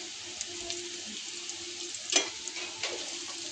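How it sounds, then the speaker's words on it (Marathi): Colocasia leaf rolls (aluvadi) browning in a shallow layer of oil, giving a soft, steady sizzle with small crackles and one sharper spatter burst, close and fairly quiet with no talking. "सगळ्या वड्या पलटी करून चांगल्या ब्राऊन कलर येईपर्यंत चांगल्या भाजायच्या. तेलात फ्राय करायच्या."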